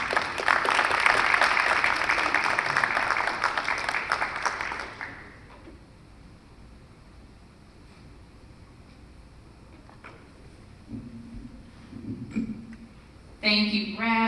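Audience applause fills a Baptist church during a mayoral forum, a dense burst of clapping that lasts about five seconds and then fades into quiet room tone, followed by a few faint sounds and a speaker beginning to talk.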